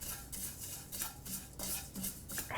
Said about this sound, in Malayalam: ഫ്ലെയിം ഓഫ് ചെയ്ത് വീണ്ടും കുറച്ച് സമയം തുടരെ ഇളക്കണം.